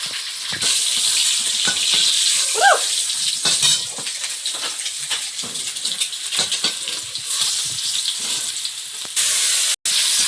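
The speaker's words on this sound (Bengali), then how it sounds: "তেলের মধ্যে পেঁয়াজ কুচি দিয়ে দিলাম, একটু রসুন বাটা, আদা বাটা" Chopped onion with garlic and ginger paste frying in oil, a loud continuous sizzle with crackles and scraping spatula strokes, close by, surging louder near the end.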